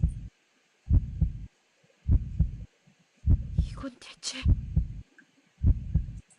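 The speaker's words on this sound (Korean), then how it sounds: "마왕의 심장 소리지." Demon king's heartbeat in the game Farland Tactics 5: a deep, loud double thump repeating at a steady rhythm, about six beats, with a brief hiss of effects and a short spoken line in between.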